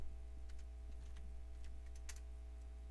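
Sparse, soft clicks of a computer keyboard as a few keys are typed, faint and spaced out over a steady low electrical hum.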